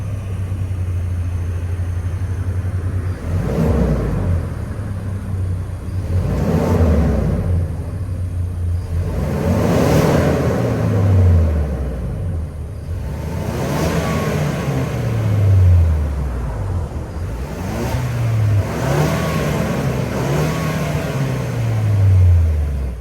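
A Ford 2.3-liter EcoBoost engine in a 2022 Ranger XLT starts and idles, then revs repeatedly in loud, rising and falling bursts close by, with no talking over it.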